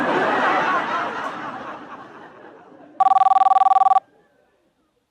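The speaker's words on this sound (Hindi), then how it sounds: "खाने के टाइम पे फोन आ गया, देखा?" A telephone bell rings in a rapid electronic trill lasting about a second. It cuts in as earlier chatter and laughter fade, then stops abruptly, leaving near silence.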